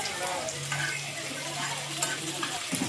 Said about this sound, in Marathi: इकडं यो पॅन ठेवलाय. त्याच्यात असं लसूण टाकलंय.